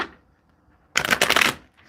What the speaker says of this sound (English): I love these small cards. They're just so easy to shuffle and handle.